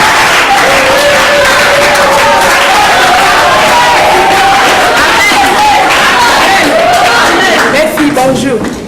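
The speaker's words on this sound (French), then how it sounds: "Est-ce qu'on peut acclamer maman pasteur?" A church congregation applauds and cheers for the pastor's wife, loud and sustained clapping with whoops and shouted voices blending into a crowd roar that carries on for several seconds.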